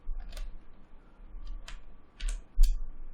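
Sparse clicks from a computer keyboard during C++ coding, several separate key taps spread out with pauses between them, fairly close and light over a quiet background, with no speech.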